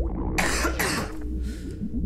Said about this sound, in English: Took long enough for me to start coughing again.